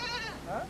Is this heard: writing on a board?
no